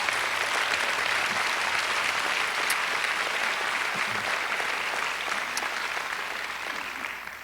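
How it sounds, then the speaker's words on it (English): Sustained audience applause at a county official's oath of office inauguration ceremony, a dense steady clapping from a large crowd that stays loud throughout and tapers slightly at the end. "Give him one more round of applause and thank him for his service."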